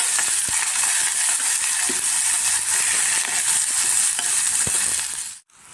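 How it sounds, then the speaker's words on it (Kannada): Chopped onions and green chillies sizzling in hot tempering oil in a pan, a steady close frying hiss broken by occasional stirring clinks, then cut off abruptly at the end. "ಈರುಳ್ಳಿ ಚೆನ್ನಾಗಿ ಬೇಯಲಿ ಒಗ್ಗರಣೆಯಲ್ಲಿ"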